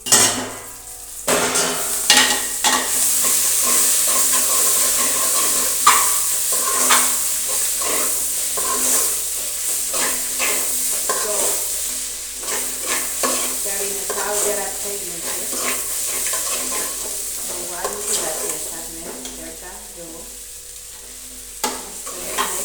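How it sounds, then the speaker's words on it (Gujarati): Radish curry cooking in a pan on a home stove, with a steady sizzle and frequent scraping and clinking of a spoon stirring against the metal throughout. "અહીંયા જો શાક બને છે અત્યારે"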